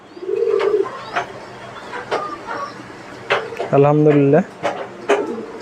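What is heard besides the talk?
pigeons cooing in a pigeon farm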